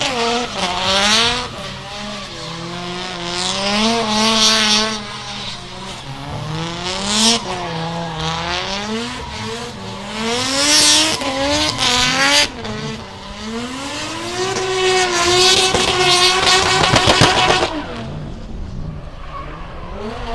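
A drift car at Meremere Drift Park during a qualifying round, engine revving hard and wailing through repeated sharp throttle swings as tyres squeal through long slides, loud and continuous with short lifts between bursts.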